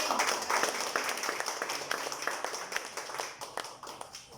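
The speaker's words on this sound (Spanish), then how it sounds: "Denle un aplauso al Señor" A church congregation applauds during a Spanish-language sermon, producing steady, dense clapping heard at a moderate distance with a slight hall wash, continuing for several seconds before thinning out slightly near the end.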